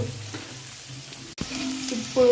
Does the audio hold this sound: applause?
no